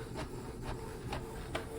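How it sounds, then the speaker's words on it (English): A Canon PIXMA TR4720 inkjet printer makes a double-sided copy, with a soft mechanical whir and a faint rhythmic swish roughly every half second, quiet and close. "now it's printing on one single piece of paper the 2 pages"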